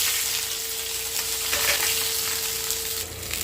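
Mixed tempering spices frying in a hot pan for sambar give off a steady, close sizzle with fine crackling, alone and with no voices.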